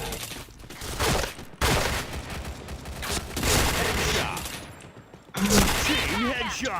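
Rapid bursts of gunfire from a first-person shooter video game, with continuous automatic fire and sharp shots layered over game effects, loud and close throughout.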